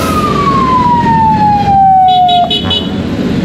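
A loud police siren wails behind a rider on a 2024 Honda Africa Twin motorcycle during a morning ride, its steady descending tone holding over constant road and wind noise.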